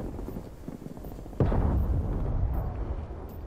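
Gunfire in the video game Call of Duty Cold War during a team deathmatch: a loud burst of shots hits sharply and then a dense rolling rumble sustains, after softer background noise.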